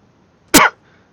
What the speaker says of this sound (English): stop fucking coughing, man. You're blowing my eardrums out.